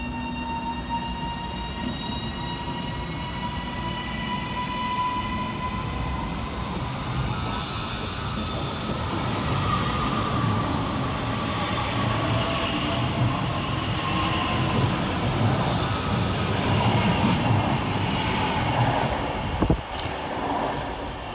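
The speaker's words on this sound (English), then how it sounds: "we're filming out 331022 and 331015, working the 1337 Northern service from Hazel Grove to Blackpool North via Bolton" Northern Class 331 electric trains pass through Deansgate railway station with a continuous rolling rumble and faint high wheel tones, growing louder toward the end, with a couple of sharp metallic clicks near the close.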